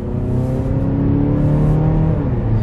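A 2019 Mazda 3's engine hums steadily under acceleration, its pitch rising and dropping as the automatic transmission shifts, close and fairly loud.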